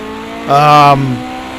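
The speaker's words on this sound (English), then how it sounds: "It revs, just a small little twin turbo V6." In the Project Cars 2 racing game, a Toyota TS050 twin-turbo V6 gives a single short rev that rises and falls in about half a second, close and loud, with a voice talking around it.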